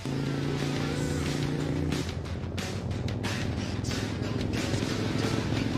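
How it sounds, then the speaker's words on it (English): Motorcycle engine in the video game Cyberpunk 2077 revving and droning at close range, a steady tone shifting partway through, with faint speech underneath. "Someone tell me if this is Keanu's bike"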